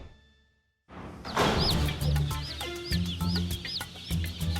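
Dense, continuous high peeping of many newly hatched chicks at a large chicken hatchery, a busy chorus of overlapping cheeps over low machine rumble.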